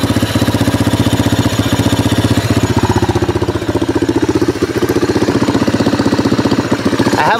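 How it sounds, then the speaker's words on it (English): A 1988 Yamaha Moto 4 ATV engine runs close by at a steady idle, loud and rapidly pulsing with a fast, even putter and a faint ticking, then rises briefly near the end. "I have a bit of a tick coming from my engine sometimes."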